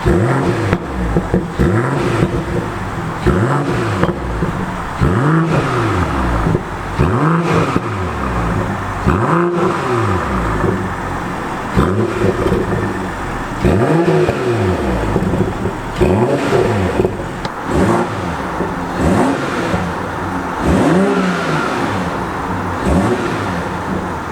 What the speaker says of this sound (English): as a party trick, like I mentioned, you can rev it and people are still going to be wowed